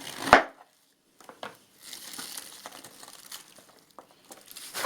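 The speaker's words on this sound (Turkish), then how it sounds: "Ben şimdi bunu biraz doğrayayım işte." One sharp knife chop through cabbage on a cutting board, then quieter scattered taps and light crinkling, with no voices.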